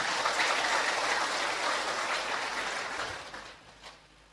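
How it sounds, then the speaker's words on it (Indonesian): Applause for the Bupati of OKU Timur at a government launch event for village officials' ID numbers and new batik uniforms: a dense crowd clapping steadily, then thinning and fading out over the last second. "Tepuk tangan aja."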